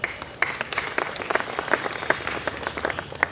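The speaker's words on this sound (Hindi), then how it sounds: "एक भरपूर ताली डॉक्टर प्रधान की दीवानगी के लिए" An audience at a classical music festival by a performing arts school applauds: lively, uneven clapping with distinct sharp claps standing out over a smaller crowd, sustained throughout.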